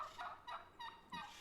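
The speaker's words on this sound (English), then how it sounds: "that's a hen, by the way. I could do a whole class on the sounds turkeys make." Wild turkey hen calling in a series of four short yelps at a steady pace, faint and somewhat distant, with no talking.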